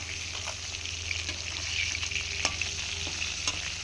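Pieces of rohu fish fry in hot oil in a wok, giving a steady close sizzle with a few soft clinks and scrapes of a utensil and no speech.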